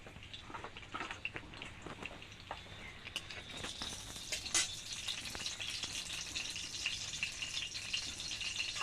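Chopped tomato hits hot oil in a pan for a potato filling and settles into a steady, close sizzle that grows denser and brighter partway through, with occasional ticks and stirring sounds and no talk.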